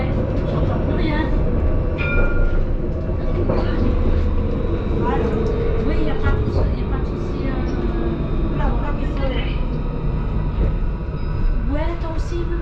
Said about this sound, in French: Vas-y, dans le tram, j'entends plus rien là.